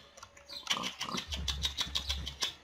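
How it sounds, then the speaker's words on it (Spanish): A video game pig grunts and oinks in several short bursts, fairly close and alone, with a faint low thump underneath. "Cerdos que podemos reproducir."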